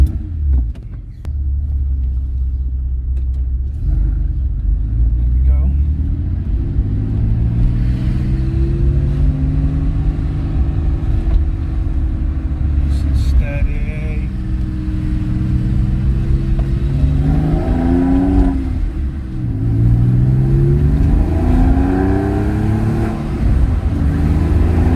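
A Porsche 911 engine and exhaust while driving, a loud steady rumble rising and falling through gear changes and acceleration, heard from inside the car with no talking.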